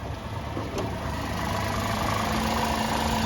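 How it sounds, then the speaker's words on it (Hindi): A Tata Tiago XZ+ petrol hatchback engine idles steadily, a low continuous hum with a faint mechanical tick and slight vibration, close by with no one talking. "और ये हम इसकी इंजन नॉइस को सुनते हैं।"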